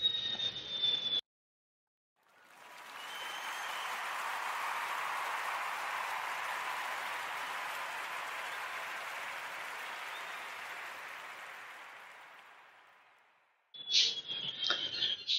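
A dense wash of applause swells up out of silence, holds steady for about ten seconds, then fades away, with no voices over it.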